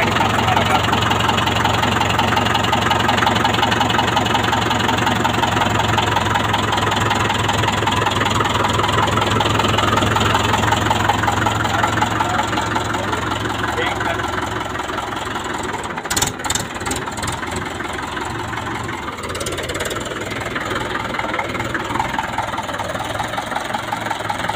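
A tractor engine idles loudly and close by with a steady, low, knocking chug throughout, and a few brief rattles and clanks cut in about two-thirds of the way through.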